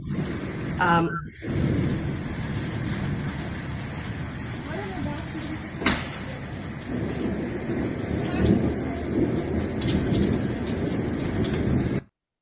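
A recording of the 26 November storm plays, with steady heavy rain hissing over a low, continuous rumble of thunder. A sharper crack sounds midway, and the storm cuts off abruptly at the end.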